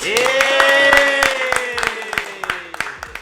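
Applause for a film crew on a Brazilian podcast set, a few people clapping in a brisk burst of sharp claps that thins out to scattered claps, over a sustained tone.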